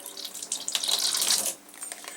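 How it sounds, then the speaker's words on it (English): Water squeezed through a Sawyer Squeeze filter gives a steady, close splashing trickle into a sink, strongest mid-clip and then easing to a lighter flow, with no talking. "We are going to gently squeeze. You do not have to force the water through this thing."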